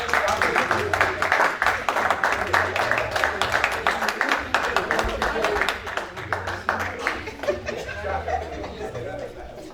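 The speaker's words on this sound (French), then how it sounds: "on applaudit, mesdames et messieurs." A crowd at a birthday bash applauds a poetry performance with dense, sustained clapping, mixed with chatter and scattered laughter, fading slightly toward the end.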